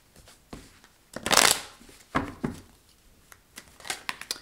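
Tarot deck being shuffled by hand, a close, crisp riffle of cards with a loud burst of flutter in the middle and lighter taps and slides around it, with no talking.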